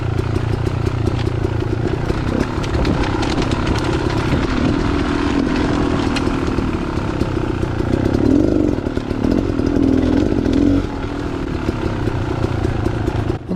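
A dirt bike ridden on wooded trails near the Wrentham Outlets, engine held at low revs with a steady, loud drone and slight rises in pitch, running continuously and close up with no talk.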